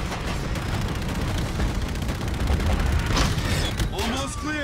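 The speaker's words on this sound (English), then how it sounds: "Who the fuck's shooting at me?" Gunfire crackles in a Call of Duty: Infinite Warfare firefight, a dense continuous rattle of shots with a louder burst near the end, mixed with game effects.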